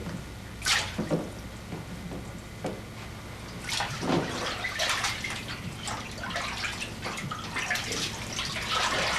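Sardines being swashed around by hand in a small tub of salted water, with splashing, dripping and sloshing liquid sounds, a few sharp splashes early then a steadier churning wash, close and moderately loud.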